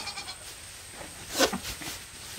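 Agitated goat giving a short, sharp bleat up close, preceded by faint rustling and followed by a couple of softer cries.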